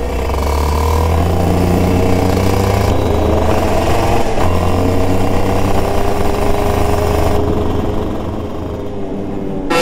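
A loud, buzzing go-kart engine drones continuously up close on a track, its pitch wavering as it speeds up and eases off.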